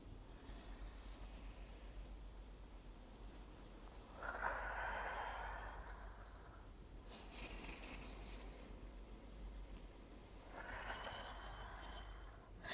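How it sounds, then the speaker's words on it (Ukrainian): Deep breaths in and out during postnatal joint-mobility exercises, about three slow, hushed breaths close to the mic, each a soft airy rush over a low steady hum. "Робимо глибокий вдих і видих."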